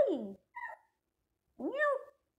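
Lucky, a pet cat, gives three close, clear meows against silence. The first meow is a falling cry, the second is short and soft, and after a pause comes a longer, rising, plaintive meow.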